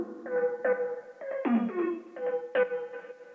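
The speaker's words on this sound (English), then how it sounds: "the drop synth that is cut off and coming in slowly" A cut-off EDM drop synth comes in slowly, with short stabbed chord hits in a choppy, syncopated rhythm and gaps of silence between them, clear and moderately loud.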